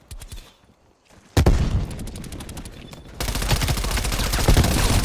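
In a video game, bursts of MP5 submachine gun fire come after a short quiet spell. They start as rapid, loud rattling volleys, then turn into a sustained stream of shots.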